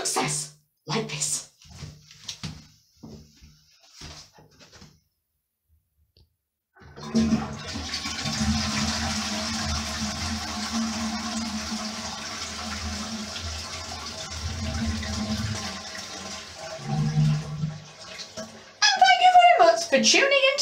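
A toilet flushes in a bathroom, a loud rushing and gurgling of water that runs steadily for about ten seconds after brief talk, then fades as the tank refills.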